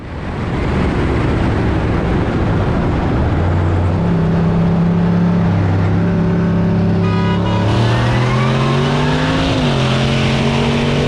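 A Cadillac CTS-V and a Fox body Mustang roll race side by side from 50 mph. Their engines make a loud, sustained roar that climbs steadily in pitch, with upshifts late in the run and no talking.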